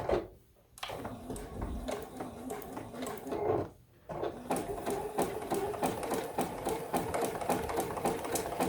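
A sewing machine stitches a quilt block with a fast, even mechanical whir and needle clatter, close and steady, pausing briefly twice before running on continuously.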